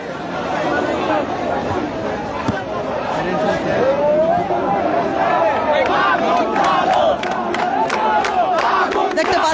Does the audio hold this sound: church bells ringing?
no